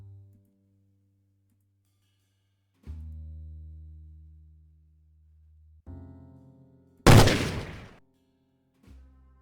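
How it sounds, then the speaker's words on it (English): A single sharp gunshot rings out in the Cube Escape: Theatre puzzle game, a loud burst that fades quickly amid sparse low musical tones and thumps. "I did not expect to be so affected by that gunshot"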